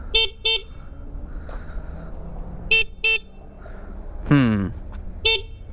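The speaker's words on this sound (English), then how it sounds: "Quick horn test." Several short electronic horn beeps from a Sur-Ron or Talaria electric motorbike come in pairs and singles, loud and close, over a low idling hum, with a brief vocal-like sound in between.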